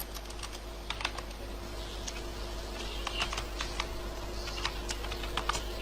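Typing on a computer keyboard while entering a spreadsheet table, irregular quick clusters of key clicks over a low steady hum, fairly close and soft.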